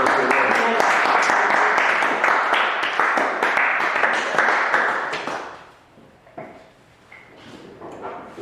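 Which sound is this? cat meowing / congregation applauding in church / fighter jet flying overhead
congregation applauding in church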